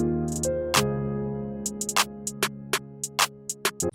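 Trap hi-hat pattern programmed in FL Studio with varied note velocities, a string of short crisp ticks of uneven loudness over a sustained piano chord bed, close and clear with no talking.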